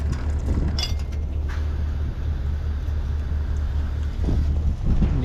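Strong outdoor wind buffets the microphone with a steady low rumble and gusts throughout, beside a trailer being readied for a kei car and truck haul, with no talking.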